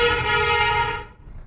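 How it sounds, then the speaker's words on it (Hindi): A loud, sustained vehicle horn blares outside for about a second, then cuts off, leaving faint background noise. "ये ज्यादा मजा ले रहे हैं हॉर्न बजा बजा का"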